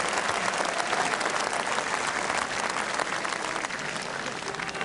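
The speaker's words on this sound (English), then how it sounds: "Big cheers from the crowd." A large crowd at a 1985 match bursts into sustained applause and cheering, a dense, unbroken wash of clapping that stays loud for the whole stretch.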